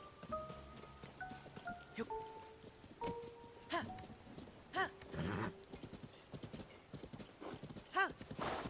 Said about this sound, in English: I'm gonna jump off this horse onto a better horse.